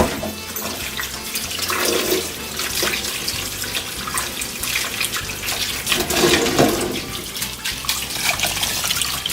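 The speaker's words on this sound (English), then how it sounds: "now we're going to get them all cracked and put in cold water" Cold water runs from a tap over cracked boiled eggs for Cajun gumbo, a continuous loud splashing and gurgling stream with a few small knocks, and no talking.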